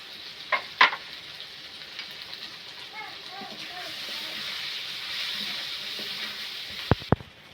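Meat seasoned with turmeric and chili powder sizzles and hisses steadily in a pan, with a few sharp utensil clinks near the start and end and soft speech faintly underneath.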